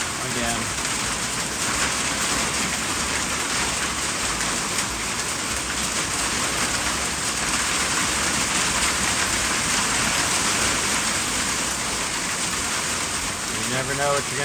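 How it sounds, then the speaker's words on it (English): Hail falls on the Appalachian Trail in the evening, a dense, loud, steady hiss and patter of ice pellets striking the ground and gear that continues without a break. "Yep, that's hail again."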